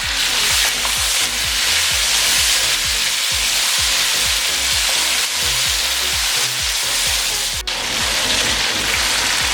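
Tomatoes and whole green chilies fry with mutton for yakhni pulao, a loud, dense, continuous sizzle with the rumble and scrape of steady stirring.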